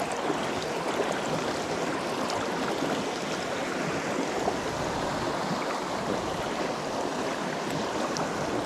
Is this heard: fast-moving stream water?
yes